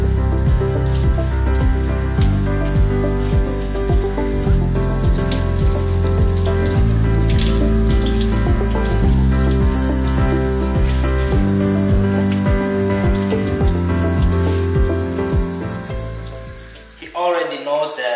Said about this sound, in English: let's see how he's gonna look like after giving him a shower.